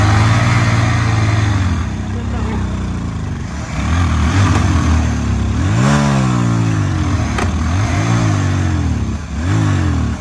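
A motorcycle engine starting and revving loud and close, with repeated rising and falling throttle sweeps over a steady idle for about ten seconds.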